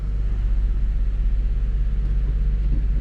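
A Cadillac CTS engine idles with a low, steady rumbling drone while the transmission is shifted between gears, close and even throughout.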